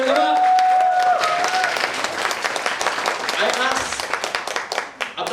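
A crowd claps in a burst of applause that starts full and thins out toward the end, with voices calling out and talking over the clapping.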